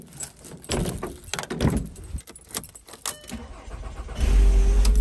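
Keys jangle and rustle up close inside a car on a pitch-black morning, then the engine turns over near the end and settles into a loud, steady low idle.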